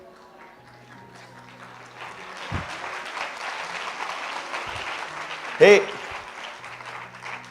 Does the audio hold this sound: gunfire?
no